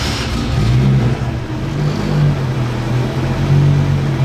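A Nissan drift car with a sequential gearbox sits with its engine running, a loud, steady, close low rumble with slight rises in revs and no voices.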